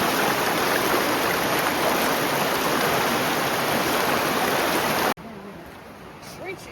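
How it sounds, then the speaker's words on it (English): Cold rushing river water in the Narrows, Utah, a loud, steady broadband wash of flowing current that fills the scene, then cuts off abruptly near the end to a quieter stretch of softer ambience. "After 45 minutes of trekking through the Narrows' cold rushing water"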